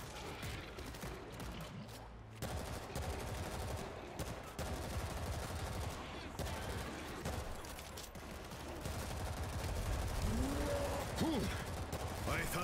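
Rapid bursts of gunfire and machine-gun chatter in the World War Z video game, steady and fairly distant in the mix, with shouted voices over the combat.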